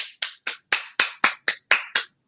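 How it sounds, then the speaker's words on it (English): Nine sharp, evenly spaced handclaps, close and crisp, each one ringing briefly before a short silence and the next. "Clap it up for us."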